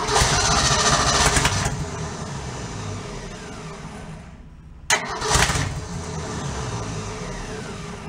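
A ratty old Ford truck engine cranks and catches, roaring loudly for a moment before settling into a steady rough idle, then briefly cuts out and is cranked and revved again.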